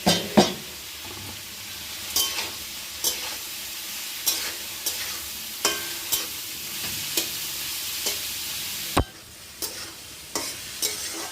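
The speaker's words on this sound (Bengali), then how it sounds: "যাতে ভালোভাবে মিক্স হয়ে যায় প্রতিটা সবজির মধ্যে, সেরকমভাবে ভালোভাবে নাড়তে হবে" Vegetables for veg fried rice being stirred in a pan, a steady sizzle broken by sharp spatula scrapes and clacks every second or so, close and fairly loud, with one heavier knock near the end.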